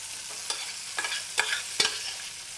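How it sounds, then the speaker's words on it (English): Chorizo and cherry tomatoes sauté in a pan with a low sizzle, broken by several sharp stirring clicks and scrapes spaced about every half second, close up and with no voices. "So just saute off a bit of chorizo,"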